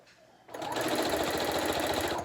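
A sewing machine stitches along fabric edges, starting after a quiet half second and then running steadily and loudly at close range with a fast, even mechanical whir.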